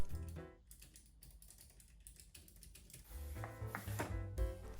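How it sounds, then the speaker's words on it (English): Typing on a Keychron K7 slim mechanical keyboard with blue optical switches, a close, quick run of light tactile clicks, steady at first then denser toward the end, with no talking. "I already had a slim mechanical keyboard from Keychron. It's a K7 with blue optical switches. They are tactile and clicky but relatively quiet."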